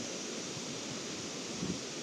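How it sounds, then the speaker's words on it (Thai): Strong coastal wind on the shore of Koh Chang island, a steady broadband rush with gusty buffeting on the microphone and possible surf beneath, continuous and loud throughout with no voices. "ตอนนี้ลมแรงมาก"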